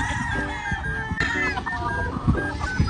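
Several game farm chickens clucking and squawking close by in San Ildefonso, Bulacan, with overlapping calls and a rooster-like cry amid farmyard noise.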